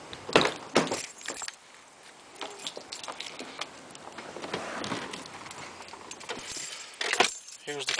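Car keys jangle and clink near the microphone as a Mercedes W140 is unlocked, with bursts of rattling metal at the start and again near the end, ending in a short electronic tone.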